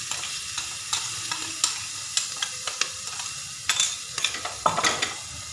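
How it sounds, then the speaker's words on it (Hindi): Ground green chillies added to roasted cumin in hot oil, crackling close sizzle with repeated spoon scrapes and taps while stirring, no talking. "इसमें हरी मिर्च डाल देंगे"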